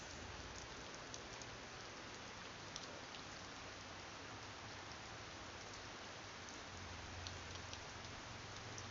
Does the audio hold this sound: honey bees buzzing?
no